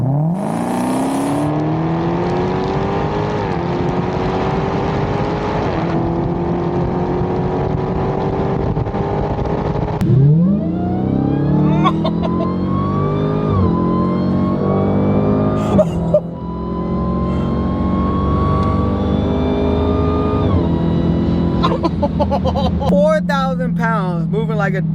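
A fully built 1,000-horsepower SVT Cobra engine roars and revs, climbing through gears with repeated surges of acceleration, loud and close throughout.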